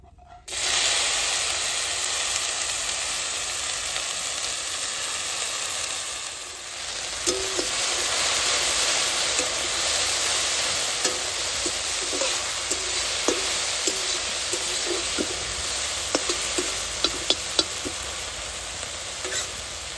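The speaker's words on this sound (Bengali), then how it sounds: "কচু ফুলটা বাজবা নিয়ে সামান্য তেল দিয়ে দিব।" Taro flowers frying in a little oil, a steady bright sizzle throughout with occasional stirring clinks and scrapes in the latter half, close and fairly loud with no talking.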